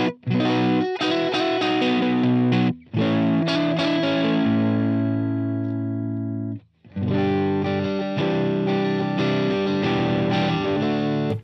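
Clean electric guitar tone from a Stratocaster with the volume knob rolled back slightly, ringing chords and single notes played loud and close, with brief pauses between phrases.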